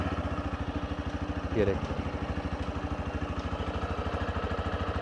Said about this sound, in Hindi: आइडियल कंडीशन पर इंजन साउंड